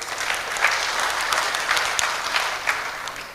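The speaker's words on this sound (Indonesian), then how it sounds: "tepuk tangan untuk Pak Jokowi" Applause for President Jokowi from an audience at a village fund gathering, a continuous wash of many hands clapping at close range, strong and even with small swells throughout.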